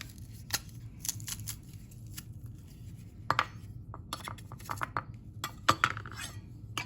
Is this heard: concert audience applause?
no